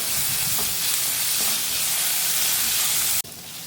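Curry leaves sizzling loudly in hot oil with frying onions for okra curd curry, a steady dense hiss that continues and cuts off abruptly near the end.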